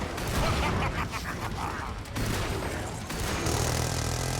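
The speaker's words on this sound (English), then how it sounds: "He's got the minigun again." Patriarch boss in Killing Floor 2 firing a minigun on the Farmhouse map, a dense continuous barrage of gunfire with mechanical clatter, loud and sustained, briefly dipping midway before resuming.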